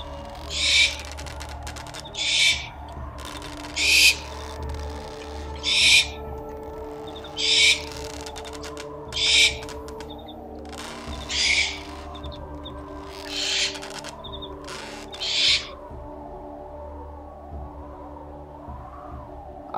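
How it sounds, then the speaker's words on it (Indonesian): A barn owl calls at night with a harsh, piercing screech, repeated about a dozen times at an even pace roughly every second and a half, loud and alone over a low, steady droning hum. "Dan entah dari mana datangnya, tiba-tiba ada suara burung dares yang memekakan telinga."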